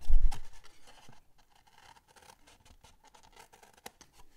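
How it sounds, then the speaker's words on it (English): Scissors cut out a square for a paper Christmas ornament, with a few crisp snips and rustles up front, then quieter scattered scratches and taps of paper handling. "make room for our scissors to cut out the square we want to remove"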